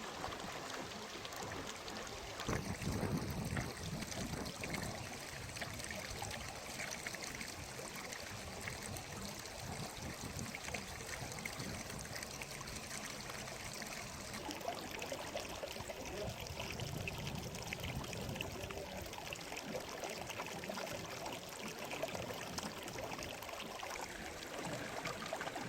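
Glacier meltwater stream in Ladakh, a steady broadband rush of flowing water that runs continuously and fairly close, with a brief louder surge near the start and no talking.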